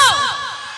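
A crowd at a live stage show roars in a brief burst of shouting and cheering, loud and close, with overlapping voices fading quickly within a second.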